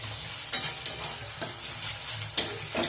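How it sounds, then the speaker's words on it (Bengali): Onions fry in oil with sugar and a bay leaf, sizzling steadily in a pan while a spatula scrapes and taps at irregular intervals, close and fairly loud with no speech. "প্রথমে একটু চিনি দিয়ে আর তেজপাতা দিয়েছি, পেঁয়াজটা একটু লাল লাল করে ভেজে নেব"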